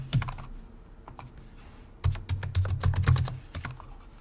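Fingers tap out a password on a computer keyboard while adding a new user account in Windows 11: a short burst of keystrokes, a pause, then a quicker, louder run of clicks close to the mic.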